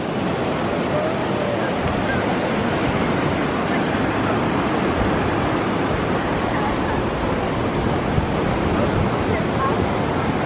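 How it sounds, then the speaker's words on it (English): Ocean surf rolling onto the beach at La Jolla, a steady, loud wash of breaking waves and rushing water with wind buffeting the microphone throughout, no voices over it. "Hear the sound of the waves."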